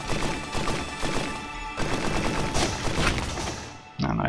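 Rapid gunfire from the video game Risk of Rain, dense bursts of shots layered over busy game effects, continuous and fairly loud throughout with a brief dip near the end.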